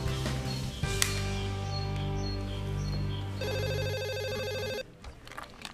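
A telephone rings in an office with a repeated electronic trill, loud and close, over background music, then stops abruptly.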